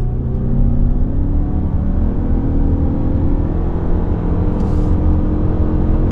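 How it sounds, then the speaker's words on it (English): A 2023 Lexus RX 350h hybrid in sport mode accelerates onto a highway, its engine giving a smooth, steady low rumble with a slowly rising drone and road hum inside the cabin, continuous and without speech. "You do hear the rumbling of the engine"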